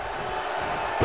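A wrestler is slammed into a steel cage at an NXT event in Milwaukee, a short hard impact at the end over steady crowd noise and commentary.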